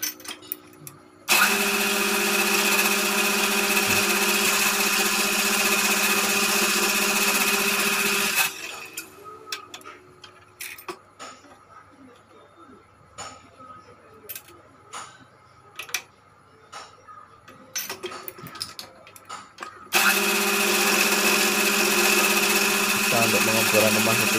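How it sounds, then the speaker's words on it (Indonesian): A machine bores out the valve seat housing in a motorcycle cylinder head, giving a steady loud whining drone in two long runs, with quieter clicks, taps and shop handling between them. "Setelah itu lalu kita kebor rumah setting klep ya, pengeboran rumah setting klep."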